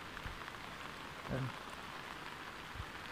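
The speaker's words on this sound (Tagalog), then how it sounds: "Kalit naman ko ng ulan" Steady rain falling in a rural province, a soft, even patter on surfaces throughout, with a short faint voice-like murmur in the middle.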